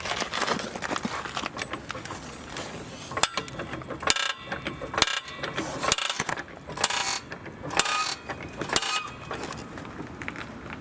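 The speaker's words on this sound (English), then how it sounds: "now I will lift the vehicle" A car jack raises a 2019-or-later Lexus UX after its front brake pads and rotors are replaced, giving repeated metallic ratcheting clicks in uneven bursts with short pauses between strokes.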